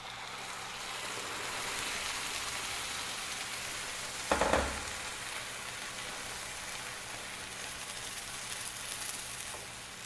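Red chilaquiles salsa hitting sautéed onion in a hot pan, a soft steady sizzle with a brief louder splash of the pour partway through, then a quiet continuous frying hiss.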